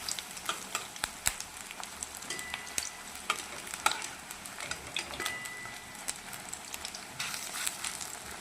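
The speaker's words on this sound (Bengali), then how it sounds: "এই উঠে আনাজপত্র করে নিয়ে আমি এগুলো এবার পেঁয়াজিটা করে দিই।" Onion fritters (peyaji) fry in hot oil, a soft steady sizzle with scattered pops and occasional utensil clinks and stirring, with no talk.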